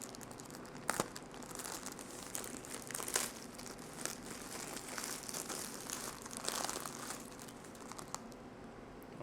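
Plastic mailer packaging around a batch of new streetwear t-shirts crinkles and crunches almost continuously, with close sharp rustles and a few tearing bursts, fairly quiet and with no talking.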